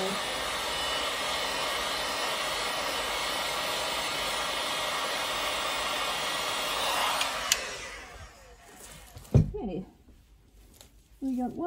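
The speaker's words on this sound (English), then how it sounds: "And then I'm just gonna put the heat gun on it again quickly." A heat gun blows steadily and loudly for about eight seconds while crafting resin mermaid coasters, a broad hot-air hiss that then cuts off, leaving a few faint handling knocks and clicks.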